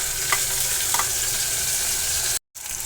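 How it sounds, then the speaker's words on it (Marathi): Onion and tomato puree frying in oil for an egg curry masala: a steady, moderate sizzle with a couple of light stirring clinks, and a brief cut near the end. "आपण हे कांदा आणि टोमॅटोची प्युरी आहे ती देखील व्यवस्थित तेलामध्ये फ्राय करून घेणार आहे"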